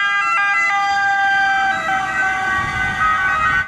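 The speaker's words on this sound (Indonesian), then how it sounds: "Kalau yang ini ada mobil ambulans." A toy ambulance car plays its electronic siren, a loud, close, steady wailing tone that sweeps slowly up and down, with no talking over it.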